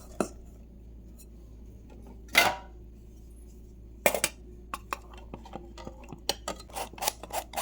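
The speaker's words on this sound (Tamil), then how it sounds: "இப்போ இதில் மைதாவை பேக்கிங் பவுடர் போட்டு மிக்ஸ் பண்ணி நம்ம இதில் சலிச்சு விட்டுக்கலாம்." Maida flour mixed with baking powder is sifted through a metal sieve, heard as scattered light metallic taps and clinks. One louder rasping shake comes early, then quicker, irregular knocks build toward the end, all close by.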